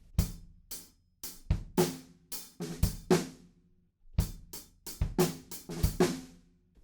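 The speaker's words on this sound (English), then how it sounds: "we move that second snare drum right to the end of the bar and we have a beat that sounds like this" A drum kit plays a variation of a song's groove with the second snare hit shifted to the end of the bar, giving crisp, loud, close-up hits in an uneven, syncopated rhythm.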